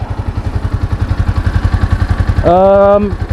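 A Yamaha XSR 155 motorcycle engine idling close by with a fast, even thumping pulse, joined near the end by a brief rising electronic tone; no speech.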